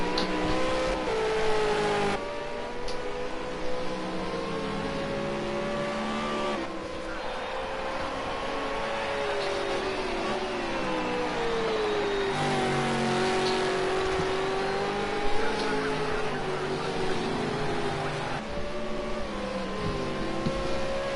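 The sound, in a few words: V8 Supercar racing cars driving at Silverstone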